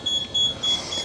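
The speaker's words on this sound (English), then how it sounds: "You can hear the beeps going off." Three short, high-pitched electronic beeps repeat at an even pace, with a steady faint hum underneath: the warning beeps of a boat garage door on a Fairline Targa 47 sports yacht.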